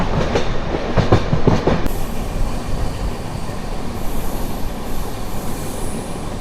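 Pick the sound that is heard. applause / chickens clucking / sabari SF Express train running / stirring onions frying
sabari SF Express train running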